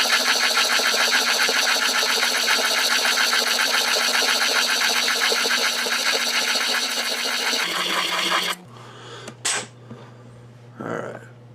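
Metal rollerball pen polished with 600 grit sandpaper on a spinning machine, a loud steady whirring grind for about eight seconds that cuts off into quiet with faint handling noises.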